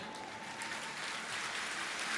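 Congregation applause at a church sermon, a steady dense wash of many hands clapping that holds even and continuous, swelling slightly toward the end.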